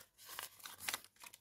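A few quick, faint snips of scissors cutting through paper, with soft crinkling between the cuts, close and quiet.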